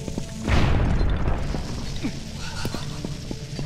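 A bomb detonates in The Legend of Zelda: Twilight Princess HD with a loud booming blast that rolls on and fades, followed by scattered clanks and clicks of game sounds.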